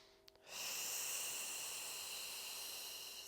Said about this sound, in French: J'expire et j'inspire